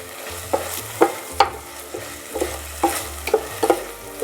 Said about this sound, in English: And then I will add the ginger torch flowers. Give it a few quick stirs.